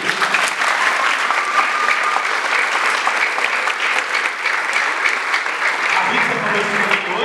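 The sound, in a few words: congregation applauding in church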